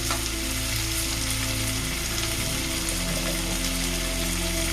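Masala sizzling steadily in a pan after kewra water is added while cooking matar pulao, a dense, even frying hiss close by over a low steady hum, with no voices.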